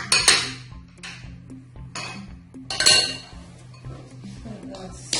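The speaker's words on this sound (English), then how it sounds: "We're going to break in" Eggs are cracked against a bowl while baking a mango cake, giving a few separate sharp clinks spaced apart, close and fairly loud, with a voice speaking between them.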